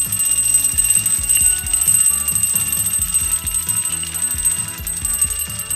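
A vintage Japanese-made mechanical wind-up toy of Santa riding a bicycle, its rear bell spinning and ringing in a rapid, continuous metallic clatter with a steady whirring mechanism underneath, close and fairly loud throughout.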